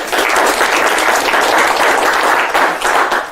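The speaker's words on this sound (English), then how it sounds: "Give me a round of applause." Loud, dense audience applause fills a magic show venue, steady clapping from many hands held at full strength throughout without a break.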